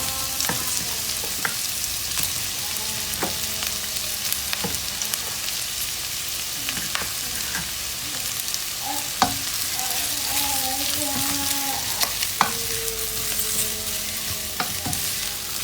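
Shredded turkey in a pot for soup sizzles steadily and loudly while a utensil stirs it, with scattered clinks and scrapes against the pot over continuous frying hiss.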